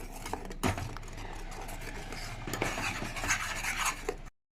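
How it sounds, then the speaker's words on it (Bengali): Onion and tomato puree sautéed over a low flame for rajma, giving a steady scraping, rasping sizzle with uneven stirring strokes that runs continuously, then cuts off abruptly. "রাজমার মেন ইনগ্রিডিয়েন্টসই হচ্ছে পেঁয়াজ আর টমেটো পিউরি। এটাও কষতে থাকবো"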